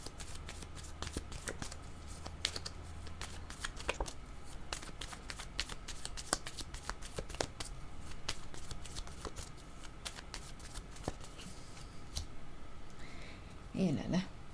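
Cards are shuffled for a tarot-style reading, quick riffling clicks and flicks arriving in bursts close by, with a faint voice speaking underneath.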